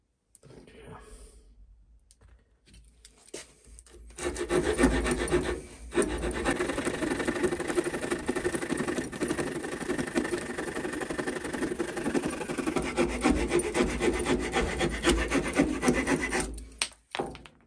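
Small pocket-knife saw cutting dry wood in a fast, steady back-and-forth rasp that runs loud and close for about twelve seconds after a few quieter starting strokes.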